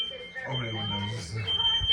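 Smoke alarm sounding in a home kitchen during cooking, a steady high beeping tone held throughout under people talking nearby.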